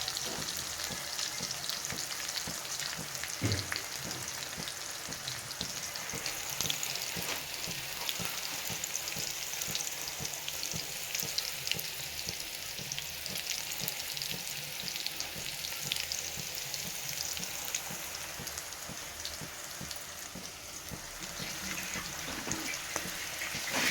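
Curry leaves frying in hot oil for lemon rasam, a steady continuous sizzle with occasional stirring scrapes throughout, close and fairly loud, no voices.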